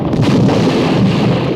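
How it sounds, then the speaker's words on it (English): A big fiery explosion in a movie soundtrack, a loud, sustained rumbling blast roar that stays dense and heavy throughout the brief moment. "Just in time for a big fiery kaboom."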